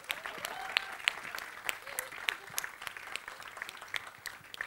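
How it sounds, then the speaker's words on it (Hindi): Scattered audience applause at a live event, moderate individual claps sounding fairly sparse and somewhat distant, with crowd murmur and voices underneath. "तालियां, come on."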